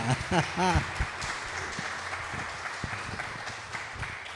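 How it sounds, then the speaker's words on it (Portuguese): A crowd applauds steadily in a room, the clapping continuing at a moderate level after a few brief voice sounds at the start. "Então, uma salva de palmas para Márcia Schelliger."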